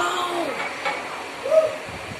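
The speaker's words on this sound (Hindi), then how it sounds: "अरे यार किचन की खिड़की के पास इतनी बड़ी बुलबुल आई" A bulbul calls near a kitchen window: two separate clear, curving whistled notes, moderately loud, heard over a faint indoor room hiss with no talk.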